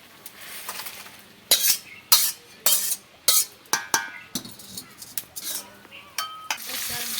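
Fish oil frying in a pan for a village-style cabbage and fish-oil dish, with a steady sizzle broken by sharp bursts of spatter and stirring clatter of a utensil against the pan, close and fairly loud.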